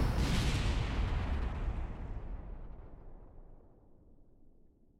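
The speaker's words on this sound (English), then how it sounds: "Now everything starts exploding." Rocket parts blowing apart in Kerbal Space Program, one big rumbling explosion that starts loud and full and slowly fades into a long low decay, with no talking.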